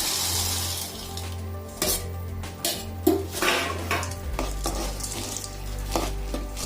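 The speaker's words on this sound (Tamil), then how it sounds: "இப்போ நம்ம பொட்டுக்கடலை போட்டு கலக்க போறோம்." Roasted gram being stirred into sugar syrup in a pan: close, uneven scraping and clattering of a utensil against metal over a low bubbling hiss, with no speech.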